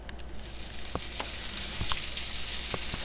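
A tablespoon of butter sizzling in olive oil in a pan over medium-high heat, a steady hiss that swells slightly as it goes, dotted with soft pops and light clicks, no one talking.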